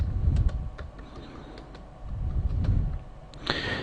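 Clicky keystrokes on a computer keyboard tapped in short irregular bursts while entering a formula in RStudio, fairly close, with a brief louder sound at the end.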